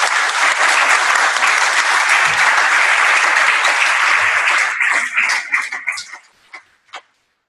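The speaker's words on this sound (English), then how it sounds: "So let's just take a minute here and give a little applause for all these people." Loud, sustained clapping from a community meeting audience fills the room, then thins into scattered individual claps and stops.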